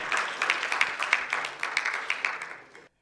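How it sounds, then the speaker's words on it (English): Scattered audience applause at a sustainability event, a moderate patter of hand claps from a modest crowd that fades out toward the end, with no talk over it. "Yes, ma'am, we can clap."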